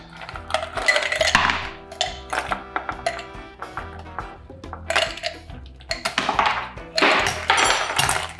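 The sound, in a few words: ice cubes being handled for a fizz cocktail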